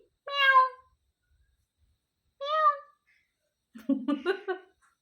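A pet parrot imitates a cat's meow, giving three short, clear mewing calls spaced apart with silence between, the last one longer and more warbling, close and fairly loud with no talk over them.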